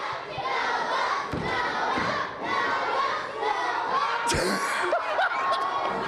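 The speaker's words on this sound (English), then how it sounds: "Listen to the crowd." A large crowd roars and cheers continuously, with shouts and some laughter mixed in, plus a few thuds.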